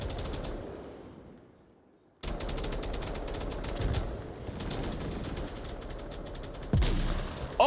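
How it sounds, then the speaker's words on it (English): A grenade goes off amid sustained automatic gunfire in the VR shooter Onward, a competitive match; a sudden loud broadband blast cuts in after a brief lull, followed by continuous rattling rifle fire and a sharper burst near the end. "Oh, what a nice nade!"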